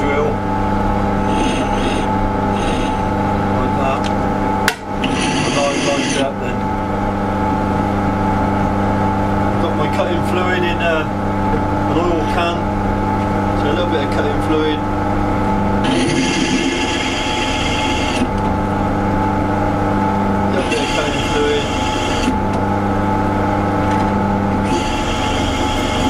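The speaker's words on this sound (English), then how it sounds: "so I tend to start the drill up" A Warco 2B12 drill press runs with a steady, loud motor hum throughout, with intermittent higher whine and cutting bursts as the clamp is brought down on the workpiece.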